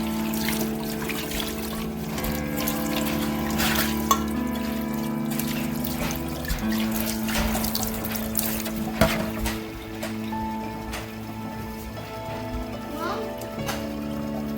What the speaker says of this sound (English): So I'm dumping and just rinsing everything out, filling the water up to the top.